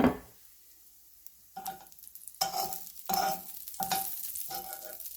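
Salmon pieces fry in a pan with minimal oil, giving short bursts of sizzle and scraping with quiet gaps between them, close and moderately loud, with no talking.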